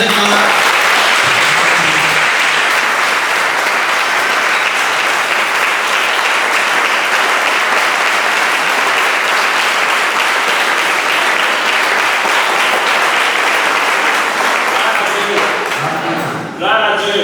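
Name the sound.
congregation applauding and acclaiming at evangelism service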